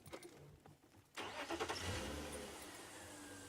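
A safari vehicle's engine cranks and catches about a second in, then settles into a steady, close idle on a game drive in Kruger National Park, South Africa, after a quiet stretch of bush ambience.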